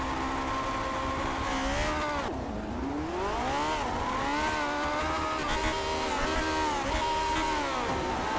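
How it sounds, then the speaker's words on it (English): A race car engine in the racing sim iRacing, Grand Prix Legends at Donington, revs loudly and steadily, its pitch dipping and climbing again as the throttle is worked, with no talking. "So the engine revving now."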